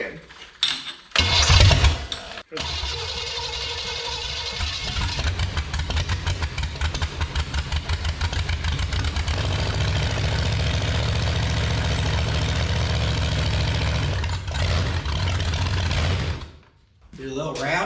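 A box truck's large engine, just fitted with a new carburetor, cranks and catches, then settles into a loud, steady rumbling idle with a fast rhythmic chug before shutting down near the end.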